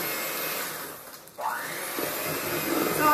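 An electric mixer whirs steadily through flour for a double chocolate biscotti batter, with a motor hum that dips and then rises sharply in pitch as the beaters dig into the thicker mix.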